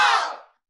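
Congregation at a church service in a Nigerian film briefly cheering and shouting for Jesus, a loud burst of crowd voices that fades out within half a second.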